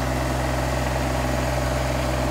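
A steady, loud tractor engine idles in snow with a continuous low rumble and vibration, unchanging throughout the short clip.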